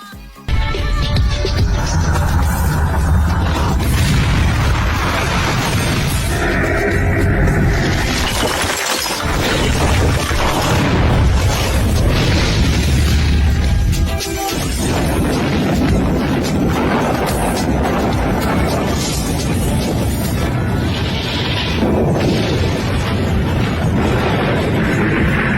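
A nuclear bomb explosion erupts as a loud, continuous roaring blast with crashing, shattering and breaking debris noise, sustained and overwhelming for about twenty-five seconds with no let-up.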